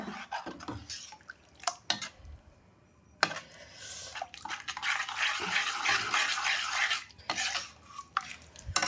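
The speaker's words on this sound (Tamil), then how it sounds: "நான் இன்னும் கூட தண்ணி ஊற்றுறேன்." Water is poured into a simmering kurma gravy in a cooking pot, giving a sustained close splashing fill broken by short clinks and stirring sounds from a utensil.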